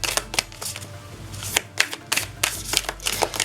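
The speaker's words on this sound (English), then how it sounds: "I'm going to shuffle the Enchanted Blossom deck" A deck of cards being riffle-shuffled several times, crisp rapid flutters in quick bursts, close and clear, with no voices.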